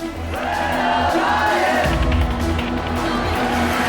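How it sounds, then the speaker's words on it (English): A large arena crowd roars and cheers without letup as robotics teams take the field at a varsity competition at Madison Square Garden, a dense, steady wall of voices. "the crowd erupts into a frenzy as the teams take the field"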